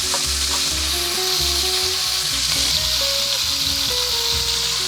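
Smash burger beef patties sizzle loudly on a hot griddle, a dense continuous frying hiss that fills the whole stretch, close and steady with no talking.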